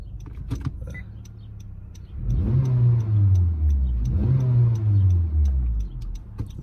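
A swapped car engine revs up twice in long surges, rising then falling in pitch, loud and close, after a few clicks and rattles.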